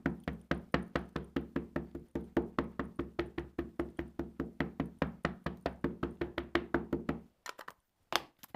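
A paper card is tapped repeatedly against a surface to shake off excess embossing or dusting powder, producing about thirty crisp, evenly spaced knocks in a steady rhythm that stop abruptly, followed by a couple of faint taps.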